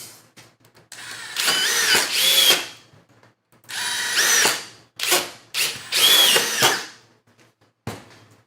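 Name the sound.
DeWalt impact driver driving three wood screws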